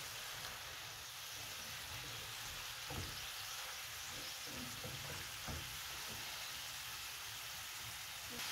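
Broccoli and chicken sizzling in a frying pan, a steady close hiss with occasional soft scraping taps of stirring.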